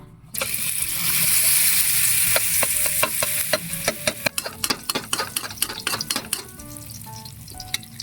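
Tortang talong, an eggplant omelette, sizzles steadily in a frying pan, with a run of sharp clinks and taps from a utensil against the pan breaking through the hiss toward the end.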